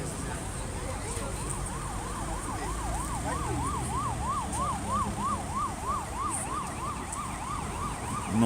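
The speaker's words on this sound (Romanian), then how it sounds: "O altă ambulanță se întoarce de la celălalt accident." An ambulance siren wails in a steady rising-and-falling cycle as the vehicle returns from a road accident near Florești, Cluj, carried over continuous traffic rumble for the whole stretch.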